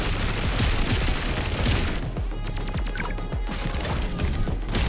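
Continuous automatic shooting in the roguelike game Pathogenic: a dense, loud barrage of crashing shots that thins into fast, evenly spaced bursts of rapid fire.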